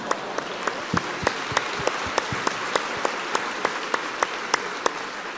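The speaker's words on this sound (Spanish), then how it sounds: "Un aplauso para ella." A seminar audience applauds, a dense round of many hands clapping fairly close, with a few loud sharp claps standing out in a steady rhythm through the whole stretch.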